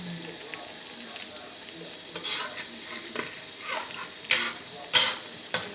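An egg fries in very hot oil for an omelette. Steady soft sizzling runs under quiet stirring and scraping, with a few sharper spatters near the end and some faint talking in the background.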